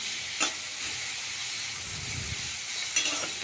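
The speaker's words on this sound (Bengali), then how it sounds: "দিয়ে নাড়াচাড়া করে একটু কাজু কিশমিশগুলো একটু ভেজে নেবো এর সাথে।" Cashews and raisins fry in a pan for fried rice, a soft steady sizzle with a few brief stirring clinks and scrapes, close and moderately quiet.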